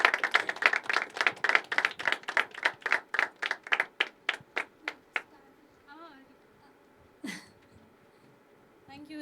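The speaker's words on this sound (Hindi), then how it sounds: "एक बार जोरदार तालियां" Audience clapping after a poetry reading at an open mic, a burst of rhythmic applause that thins and fades out, followed by quieter room sounds.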